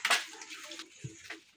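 Water pours briefly from a container during a meal, a short splashing rush that is strongest at the start and then fades into softer trickling.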